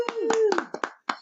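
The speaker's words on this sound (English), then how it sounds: "Let's clap it up for episode 2." Several sharp hand claps at a steady pace during an episode 2 rapper interview, mixed with a sustained voice; close and fairly quiet.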